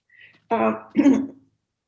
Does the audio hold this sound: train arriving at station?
no